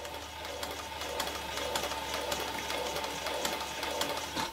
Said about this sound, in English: so this is stitching on a curve